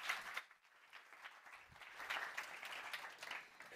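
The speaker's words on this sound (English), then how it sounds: "a big round of applause, please" Audience applause at a conference talk on ocean carbon dioxide removal, a soft, fairly distant wash of clapping from a sizeable crowd that swells slightly midway.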